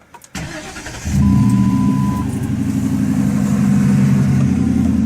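A 2010 Ford Crown Victoria P71 engine with Flowmaster 40 mufflers cranks and catches, then settles into a deep, rumbling idle that stays loud and steady.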